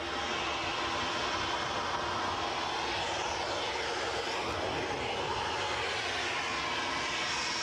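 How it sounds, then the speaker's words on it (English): A Ryanair jet airliner departing Edinburgh airport for Belfast, its engines producing a steady, loud, broadband roar that swells and sweeps in tone midway through as it passes, with no talk. "Just got the small matter of a Ryanair departure to go first, off to Belfast."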